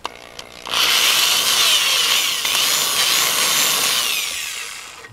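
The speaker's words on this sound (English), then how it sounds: "now we're making a little holes for the screws." A power drill bores small screw holes while a subwoofer box with a 15-inch DC XL speaker is being built: a loud, steady high-pitched whine runs for about four seconds after a brief quiet lead-in, fading slightly toward the end.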